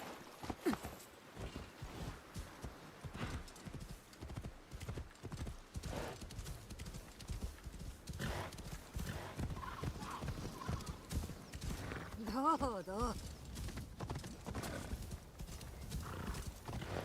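Horse hooves clip-clop steadily through the Assassin's Creed Shadows game world, with a loud neigh and whinny standing out partway through, over a dense background of ambient game sound.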